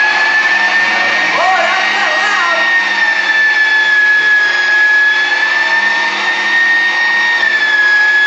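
A meat grinder forces strips of beef through its plate with a loud, steady motor whine that holds for several seconds, a constant mechanical drone that never lets up.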